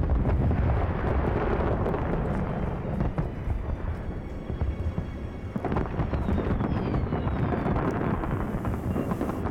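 Fireworks going off in a Hitman game: a continuous rolling roar of dense crackling blasts and deep rumbling booms, loud and sustained throughout with no voices.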